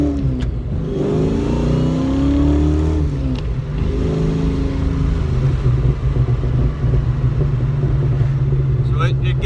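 A 1991 Ford Mustang GT's engine revs and accelerates as it pulls out onto a local road, a loud close rising drone heard from inside the car with shifting pitch through the gears.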